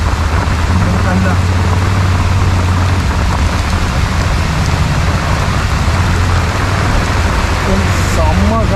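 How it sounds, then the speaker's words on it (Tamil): Heavy rain pours around an auto rickshaw riding on the road from Ponmudi hills toward Kovalam, with a loud, dense, unbroken patter over the engine drone and people talking. "செம்ம காட்டுக்கு மழை."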